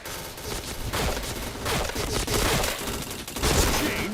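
Rapid bursts of gunfire from a shooting video game, dense and continuous with heavy booming volleys, steady and loud across the whole stretch with no talking.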